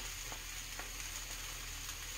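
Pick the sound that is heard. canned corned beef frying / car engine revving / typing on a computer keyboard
canned corned beef frying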